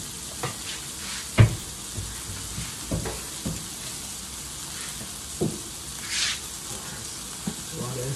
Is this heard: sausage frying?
yes